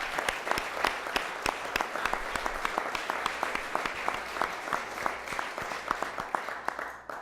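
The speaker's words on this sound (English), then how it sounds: "Let's give our employees a big round of applause." Audience applause for Rochester city employees at a mayor's budget announcement, with distinct individual claps rattling steadily in a moderate-sized crowd for several seconds.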